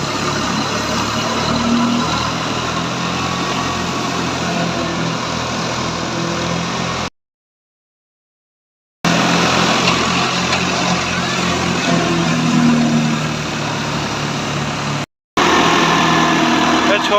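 A brand-new 2023-model wheat thresher driven by a small Fiat tractor runs loud and steady, engine drone and mechanical rattle filling the air, with two abrupt dropouts into silence and someone talking over it.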